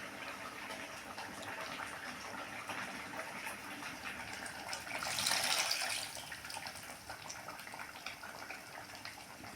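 Tamarind water is poured into an eggplant gravy in a home kitchen, making a soft, steady liquid gush that swells briefly midway before settling back to a quiet trickle.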